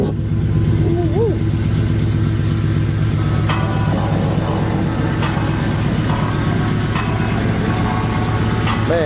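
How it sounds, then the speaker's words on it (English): A supercharged Cutlass engine runs close and loud throughout, its steady low rumble rising at moments as though revved, with voices talking over it. "The car drowned it out."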